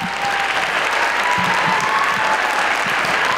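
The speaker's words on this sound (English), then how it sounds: "So please give a round of applause to Elsie and Serenity," A circus arts show audience gives a loud, sustained round of applause for the founders, thick steady clapping with a few scattered cheers.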